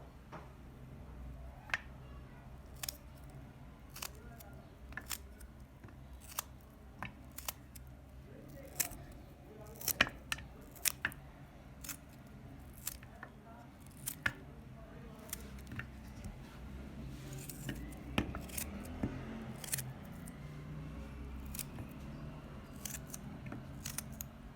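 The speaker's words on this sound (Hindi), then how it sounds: "हमने बिल्कुल बारीक बारीक जो है मिनी फिंगर्स के उसमें काट रहे हैं हम" A knife cuts potato slices into thin mini finger sticks on a board, giving a steady series of sharp, close ticks and chops with faint room noise underneath.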